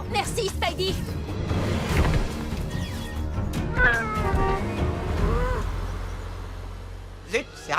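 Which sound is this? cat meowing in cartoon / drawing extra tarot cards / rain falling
cat meowing in cartoon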